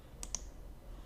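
A single faint double click of a computer mouse, two quick sharp ticks close together against a quiet room background, with no voice.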